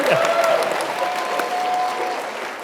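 Sustained audience applause fills a debate hall in a broad, steady wash of claps, with a faint tonal hum running beneath it.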